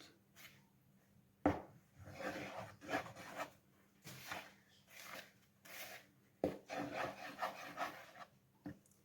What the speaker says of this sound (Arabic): هنبتدي نقلب المواد الجافة مع بعض